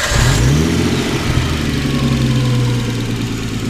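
Nissan Skyline turbo inline-six fitted in a 1969 Triumph TR6, starting and settling into a loud, steady, rumbling idle close to the microphone with no talking.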